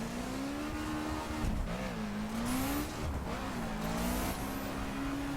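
Subaru BRZ engine in The Crew racing game revving steadily on a dirt road with wheel spin, a continuous droning tone that rises and falls as the revs swell, with faint tire hiss throughout.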